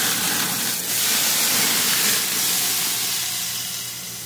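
Carne asada being flipped on a hot grill sends up a loud, bright sizzle, a dense hissing spray that swells early, holds, then slowly tapers off as the meat settles.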